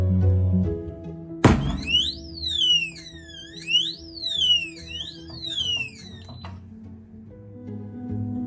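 An ADIMO Model 35 reinforced alloy safe lock box sets off its alarm after a sharp thunk, sending out loud, rising and falling electronic siren sweeps for several seconds.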